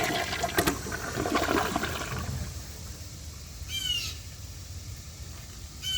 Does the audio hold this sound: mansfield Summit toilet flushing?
yes